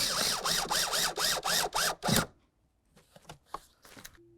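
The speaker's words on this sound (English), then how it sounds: "Now we can start putting in our 4 mounting screws." A power driver spins mounting screws into a 2004-2006 Scion xB blower motor in about eight quick, whirring pulses, loud and close, then stops, leaving faint clicks and handling noises.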